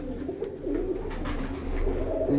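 A prized breeder pigeon coos softly nearby, low murmuring calls over a quiet ambient background with no talk.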